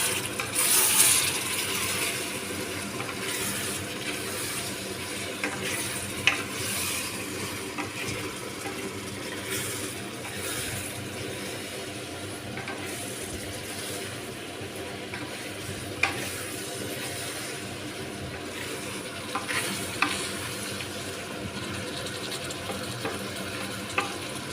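Masala chicken being stirred in a clay pot as garam masala is worked in, a steady scraping and sizzling churn with occasional clinks of the spoon, continuous and fairly close.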